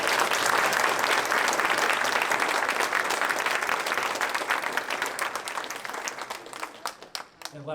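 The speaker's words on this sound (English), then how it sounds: "So big round of applause for all the jazz musicians tonight." At a school jazz night, an audience gives student jazz musicians a loud, dense round of applause that gradually thins and fades, with scattered last claps and a voice starting at the end.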